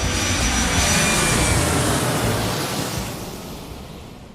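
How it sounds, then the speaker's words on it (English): A jet airliner roars loudly on takeoff, a broad rushing engine noise that swells and then fades slowly as the aircraft climbs away. "and seats are in their upright positions as part one of Joanna's round trip story gets ready for takeoff"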